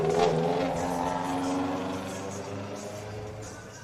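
A loud, unmuffled car engine roars steadily close by, its rough drone holding throughout and easing slightly toward the end, with a crowd murmur faintly underneath.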